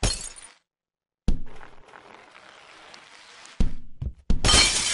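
Glass shattering in the Happy Wheels video game: a loud bright crash opens, then after a pause a softer scattered tinkle, followed by two more sharp breaking bursts near the end, with no talk.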